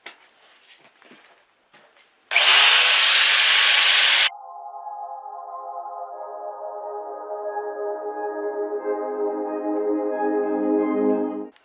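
A cutoff wheel or saw slices through the exhaust pipe of a 1972 Sno-Jet snowmobile in a workshop, a loud two-second burst of harsh hissing grind, followed by a long ringing, rising whine as the tool spins down or the metal resonates.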